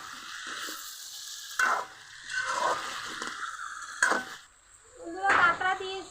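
Fried crab pieces being added to pumpkin cooking in a pan. Bursts of sizzling and stirring alternate with brief clanks of utensils on the pan, close and fairly loud, with quieter gaps between.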